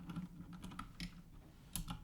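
Computer keyboard keys are pressed in quick light clicks for a shortcut, several soft taps close to the microphone against a quiet background.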